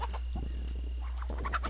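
A chicken in the pirate video game Pixel Piracy clucks in short, clipped bursts over a constant low hum, a few quick calls spaced through a brief moment.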